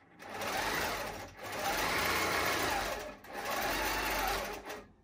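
A Pro Stitcher computerized longarm quilting machine stitches across a quilt in three rapid, steady bursts with short pauses between them. The sound is close and clear, with no talking.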